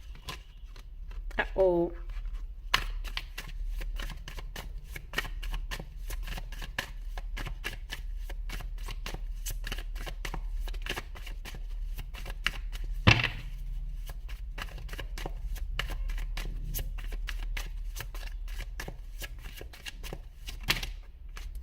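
Tarot cards shuffled by hand in repeated soft riffling bursts close to the mic, a steady crackle running under occasional speech, with a couple of sharper snaps standing out.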